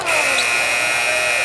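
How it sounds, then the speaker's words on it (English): The game buzzer sounds at a Duke versus Wake Forest college basketball game, a loud sustained electronic tone held over arena crowd noise. "great look inside, and Isaiah Musius beats the buzzer."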